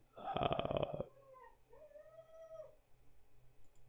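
A dog nearby makes a strained, rising whine that breaks into a rough, growly howl, followed by softer drawn-out whimpers that fade into quiet room noise.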